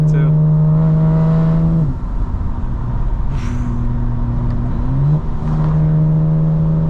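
A 900 HP 2025 BMW M4 Competition xDrive accelerates hard at night. Its loud engine drone holds near, then drops and climbs again through two gear shifts.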